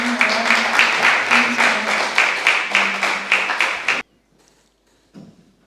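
Audience at Dr Anette Hoffmann's book launch applauding: close, rhythmic bursts of clapping for about four seconds, then an abrupt cut to near silence broken by a faint brief sound.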